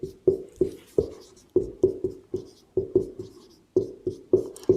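Chalk or marker strokes on a classroom board during a maths lesson on a rectangle's diagonal, a steady series of short, sharp taps and scrapes about every half second, close and clear with no talking.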